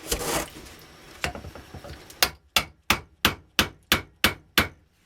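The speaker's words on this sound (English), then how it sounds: "By the time I hit 5 or 6 whacks, I can really feel that fuel solidifying and compacting under the rammer" A rammer is struck repeatedly with a hammer to pack charcoal gerb fuel into a three-quarter-inch tube. After a few scattered knocks, about eight sharp, evenly spaced whacks ring out, each loud and close with a short decay, and no one speaks.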